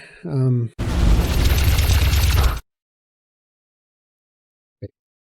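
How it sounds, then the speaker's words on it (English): An incoming missile explosion in the space game X4 Foundations hits as a loud, sustained roaring boom of about two seconds, cutting off abruptly into silence, preceded by a brief spoken word and followed by a faint short blip. "Incoming missile."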